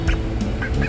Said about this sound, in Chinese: 他不咬自己的男朋友，对不对，鸭子？ 鸭子喂食秀。